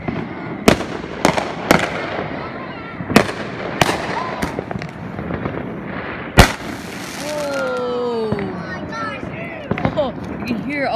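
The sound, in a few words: fireworks exploding, Fourth of July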